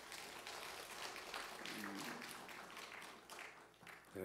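A church congregation applauds during a Sunday worship service, a soft, steady patter of many hands clapping, heard from a distance for a few seconds.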